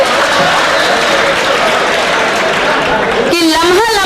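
Applause from the audience at a ladies' mushaira in Bhiwandi, loud dense clapping that fills most of the stretch before a voice comes in over the tail end.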